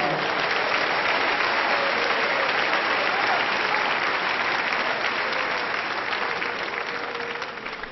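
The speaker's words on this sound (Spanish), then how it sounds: "Dele palmas al Señor" A church congregation claps together during a sermon, a loud, continuous wash of hands that holds steady before tapering off in the last second.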